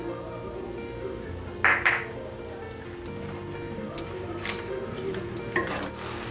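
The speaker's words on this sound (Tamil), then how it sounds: "இந்த வெங்காயம் வதங்கிறதுக்காக நான் கொஞ்சோண்டு உப்பு சேர்த்துக்கிறேன்" Onions sauté with a pinch of salt in a pan for Bihari chicken curry, giving a soft continuous sizzle broken by a few louder scraping stirs and clinks of the spoon against the pan.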